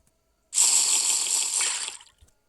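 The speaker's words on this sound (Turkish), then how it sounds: "Bir su içelim. Susadım zaten." Water drinking sound in the Minecraft video game, a single bright gushing, slurping burst lasting about one and a half seconds, loud and close with no talk over it.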